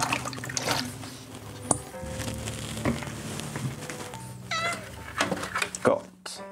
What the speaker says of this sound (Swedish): Oj, där kom en katt.